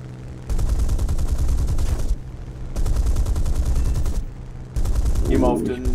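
A Messerschmitt's 50 mm cannon in War Thunder fires in loud, sustained bursts, three long stretches of rapid, rhythmic booming separated by short pauses, with a brief voice-like sound near the end.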